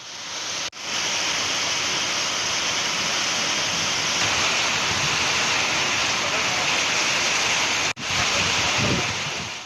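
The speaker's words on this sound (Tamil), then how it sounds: "காற்றுடன் மழை பெய்தது" Heavy rain driven by strong gusting wind during a summer storm in Dindigul, Tamil Nadu, a loud, dense, steady roar that holds for nearly the whole stretch, broken only by two brief cuts.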